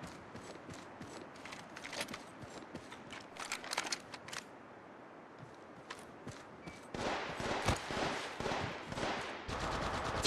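Apex Legends Mobile gunfire from two enemy squads crackles in scattered bursts, quieter and farther off at first, then a denser, louder volley of rapid shots near the end.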